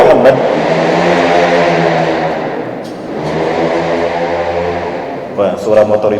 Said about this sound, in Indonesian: suara motor itu lebih keras dari suara saya